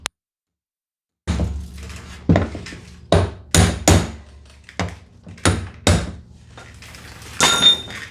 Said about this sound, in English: I can just strike this with a small chisel and a hammer